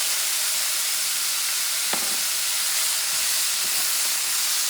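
Shredded beef sizzles in a hot pan with a few drops of soy sauce, a steady, close, dense hiss throughout with a single sharp pop partway through and no voices.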